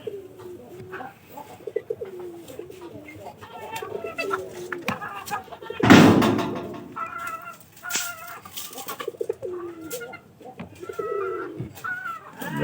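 Pigeons coo repeatedly inside a tin-roofed loft with egg-laying hens. Low, rolling, overlapping calls carry on throughout, with a louder rustling or flapping burst near the middle and more cooing after it.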